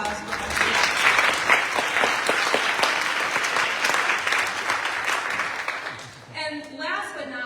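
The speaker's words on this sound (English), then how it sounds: "Could I please get a round of applause for her?" A crowd at a Senate candidate forum claps in a sustained, dense round of applause for about six seconds before it dies away and a voice starts speaking.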